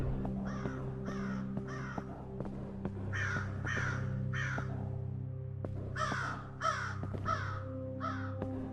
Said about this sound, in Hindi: कौवे साले रात को सोते नहीं है क्या?